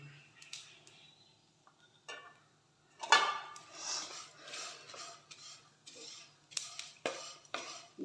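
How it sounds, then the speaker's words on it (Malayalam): Metal utensils scrape and clink against pans in bursts, a ladle scooping fried vermicelli and banana from one pot and tapping into another. "ഇനി ഇത് നമ്മൾ മറ്റൊരു പാത്രത്തിലേക്ക് വറുത്ത് കോരി വെക്കുന്നു"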